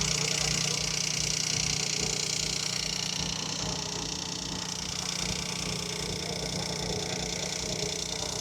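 A PSA 1.2 car engine idles steadily just after a first start following a wet belt replacement, a continuous close low rumble with a faint mechanical ticking and no voices over it.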